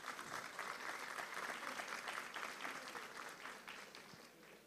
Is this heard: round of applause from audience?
yes